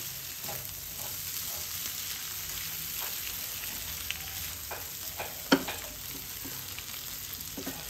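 Prawn masala curry being stirred in a sizzling pan, a continuous close frying hiss with soft scraping of the spoon and one sharper clack, no voices.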